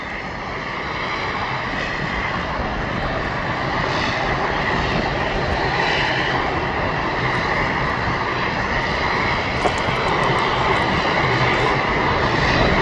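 A fire plane roars down the runway on its takeoff run, its engine noise loud, steady and broadband throughout, with no talk over it.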